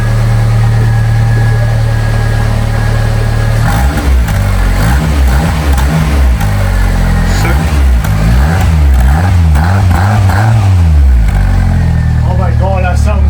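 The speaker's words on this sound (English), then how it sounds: "I wanted to give it a little touch to the throttle there." A long-unstarted Fiat 500 engine idles loud and close, then the throttle is blipped in repeated revs that rise and fall, with people talking over it.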